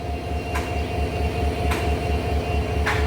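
A train sits at a railway station in Cox's Bazar, its loud, steady low rumble running throughout with periodic sharp clanks, and no voices present.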